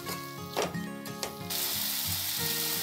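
Tomatoes sauté with salt in a hot pan, giving a close, continuous sizzle with a few stirring scrapes, and the frying grows louder and steadier partway through.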